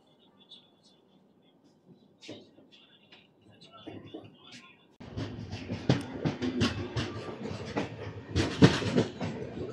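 Rayalaseema Superfast Express, train 12794, pulls out of Shankarpalli station. A few seconds of near quiet give way to a loud, steady rumble and rail clatter with sharp clanks.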